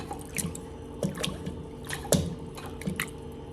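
Pigeon pea lentils (toor dal) being rinsed by hand in water in a home kitchen, with soft repeated drips, splashes and squelchy swishes coming in short bursts, close and fairly quiet, with no talking.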